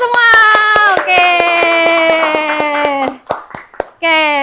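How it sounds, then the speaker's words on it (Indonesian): Group hand clapping at a training session for instructors: sharp, evenly spaced claps beat out a steady rhythm beneath a loud sung or chanted voice, briefly broken before the voice returns. "tepuk tangan dulu untuk kita semua"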